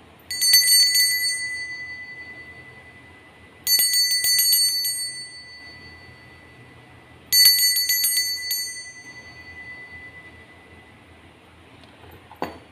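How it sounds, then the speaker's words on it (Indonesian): A bicycle-style bell rings three times at intervals of about four seconds, each ring a bright, clear burst that fades out, with near silence between. "Kita akan memulai dengan ditandai lonceng berbunyi."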